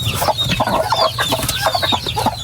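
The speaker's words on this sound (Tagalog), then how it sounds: "May sisiw na." Hens cluck softly nearby while chicks peep in rapid, high chirps, a busy continuous mix of farmyard fowl sounds.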